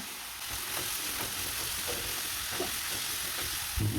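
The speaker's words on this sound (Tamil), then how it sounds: "இப்போ இந்த அளவுக்கு நல்லா வதக்கிட்டோம்" Onions sauté in a pan with a steady, fairly quiet sizzle, broken by soft scraping as they are stirred, with a light knock near the end.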